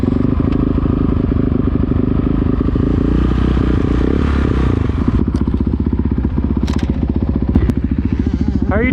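Dirt bike riding sight laps on a motocross track at Wildrat, its engine loud and close throughout with steady droning and revving plus clattering thumps over rough ground.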